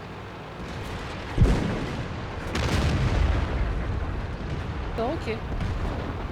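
Tank cannon fire and shell impacts in a tank video game, a sharp boom followed by a heavy rumbling blast, with a brief spoken exclamation near the end.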